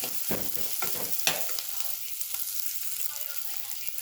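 Onions and mashed potatoes fry in hot oil for matar paneer, a close sizzle with a few quick stirring scrapes at the start that settles into steady quieter frying, no voices.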